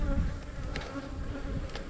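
Yellow honey bees at an opened hive with a honey box, a continuous close buzzing hum with a couple of brief clicks from handling, and no talking.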